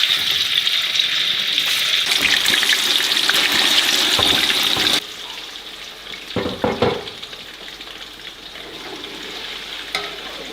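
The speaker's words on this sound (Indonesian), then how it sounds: "Aku mau goreng emping" Emping crackers frying in hot oil in a home kitchen, giving a loud continuous sizzle and crackle. Midway the sizzle drops to a quieter bubbling, with a few clatters of stirring.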